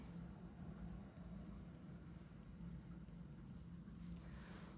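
A pen scratches steadily across the pages of a weekly planner, a faint, continuous writing sound close at hand with no talking over it.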